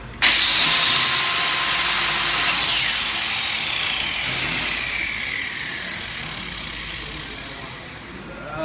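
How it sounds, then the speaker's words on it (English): A Milwaukee M18 FUEL braking grinder spins its disc with a loud high whine, then the brake engages and the pitch sweeps quickly downward as the disc winds to a stop, leaving a fading hum. "You can see the fuel braking grinder on your left stops the disc extremely quickly"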